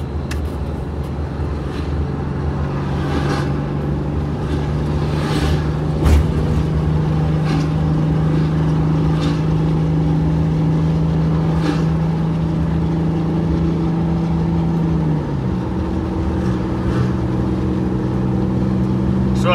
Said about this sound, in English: your engine's extra loud too